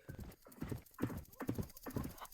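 Horse hooves clip-clop at a steady walking rhythm in a Westbound video game, with a brief neigh mixed in, fairly close and moderately loud.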